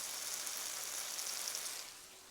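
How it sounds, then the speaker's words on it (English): Meatballs sizzling in a frying pan, a steady hiss of hot fat that stays loud and even for most of the moment before easing off a little near the end, with no voices. "you're going to let your meatballs sizzle."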